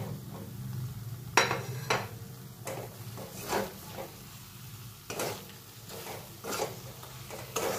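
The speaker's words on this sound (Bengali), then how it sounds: "এবার এর মধ্যে আমার ভেজে রাখা পটলগুলো দিয়ে মশলার সঙ্গে একটু কিছুক্ষণ কষিয়ে নেব" Pre-fried pointed gourd is stirred with spices in a pan, with intermittent scraping and clinking of a spatula over a soft, low sizzle.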